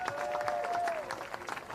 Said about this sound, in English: a very big hand of applause for the captain of the England team, Luke Tomlinson.